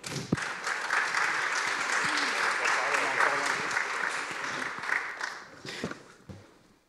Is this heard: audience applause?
yes